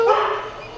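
A small black dog, a dachshund-like mix with a Labrador-style head, gives a single short bark close by.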